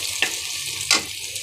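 Onions sizzle and fry in a pan, a steady close crackle broken by two brief louder stirring scrapes.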